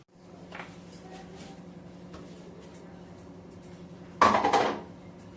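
In a home kitchen, dried glass cups are set down with light clinks amid a low steady hum, followed by a louder burst of clattering glass being placed near the end.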